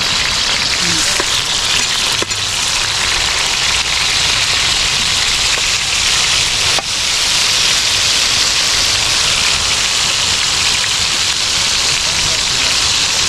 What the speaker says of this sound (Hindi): तो जब ऑयल इसका गर्म हो जाए तो इस पर हम डाल देंगे जनाब टमाटर ऊपर से